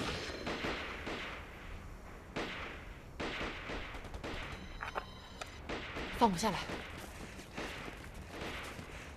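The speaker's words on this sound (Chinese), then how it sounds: "枪声是从对面山坡上传过来的。" Gunfire echoing from a hillside across the way in a war film scene: repeated bursts of shots with uneven spacing, moderately loud, mixed with footsteps and movement, and a person speaks briefly over it.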